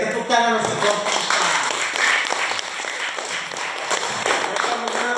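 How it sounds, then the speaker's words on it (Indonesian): A primary school class applauds a student group during a coding and artificial intelligence lesson, with scattered clapping from many children lasting several seconds and voices mixed in throughout. "tepuk tangan untuk kelompok 4."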